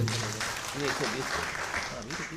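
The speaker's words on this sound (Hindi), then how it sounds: "ज़ोरदार तालियां हफीज़ साहब के लिए।" Audience applause at a mushaira and kavi sammelan poetry gathering in Gomti Nagar, a dense wash of clapping from the crowd with voices heard talking over it.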